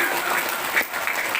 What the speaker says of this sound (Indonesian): Tepuk tangan lah kalian dulu deh.